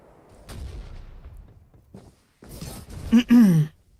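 Cannon blasts in the battle game Farlight 84: a few heavy booming shots over a low rumbling backdrop, then a burst of louder sound with a voiced groan-like tone toward the end.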